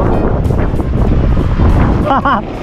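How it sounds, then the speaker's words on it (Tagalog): Loud, steady wind buffeting the microphone with a constant low rumble at midday in Balayan, Batangas, during a bike ride, a voice briefly rising near the end. "Tapos ang lakas ng hangin dito."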